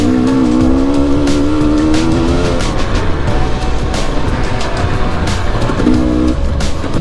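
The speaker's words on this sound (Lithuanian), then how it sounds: "kaip šitas motociklas eina" An enduro motorcycle engine roars loud and close while ridden on an enduro rally course, holding a steady high rev with slight pitch shifts throughout.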